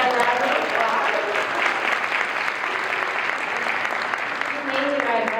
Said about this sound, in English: everyone give Mark a round of applause